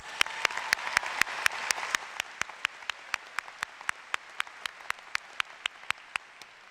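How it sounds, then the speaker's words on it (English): At a university commencement ceremony, a crowd's round of applause starts dense and thins out, ending with one person's loud, evenly spaced claps ringing alone. "Let's give them all a round of applause."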